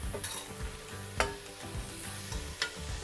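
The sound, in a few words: potatoes, carrots and beans frying and stirred in pan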